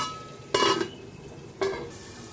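A cooking pot lid is lifted off while dhokar dalna cooks, giving two short metallic clanks with a brief ringing scrape, close by and moderately loud, separated by about a second of quiet kitchen background.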